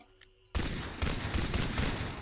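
Rapid gunfire in the shooter video game Far Cry 3 breaks out suddenly after a quiet moment, loud repeated shots in quick succession with sharp bursts continuing to the end.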